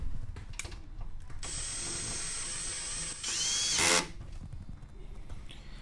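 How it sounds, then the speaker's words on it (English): A power tool tightens the bolts of a Scopema swivel seat in a RAM Promaster 2500 van, giving a close, loud whirring burst that rises at the end, with ratcheting clicks around it. "I think it'll work to tighten all these bolts"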